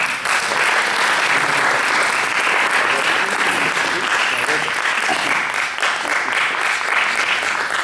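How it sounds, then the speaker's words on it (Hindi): An audience applauds loudly and without a break at a Holi Hindi poetry event in Houston, a dense, steady wash of clapping from many hands that lasts throughout. "जोरदार तालियों से स्वागत करते हैं आईसीसी के प्रेसिडेंट स्पीकर राजीव भावसार जी"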